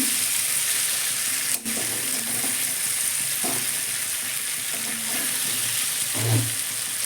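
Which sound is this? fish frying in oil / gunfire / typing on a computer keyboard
fish frying in oil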